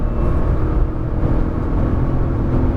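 A Nissan GT-R accelerating hard on a race track, its engine giving a loud, steady, dense roar that holds close and constant throughout.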